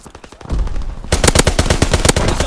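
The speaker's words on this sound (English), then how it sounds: "Strafing run." Rapid machine gun bursts from a strafing run in Call of Duty WWII, loud, dense rattling fire that intensifies midway into a continuous hammering stream of shots.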